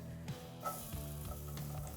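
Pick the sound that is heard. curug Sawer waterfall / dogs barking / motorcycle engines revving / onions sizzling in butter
onions sizzling in butter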